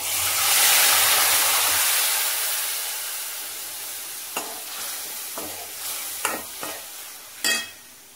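A spicy pickle mixture is poured into a hot pan and bursts into a loud hissing sizzle that slowly fades, followed by a few sharp scraping stirs near the end.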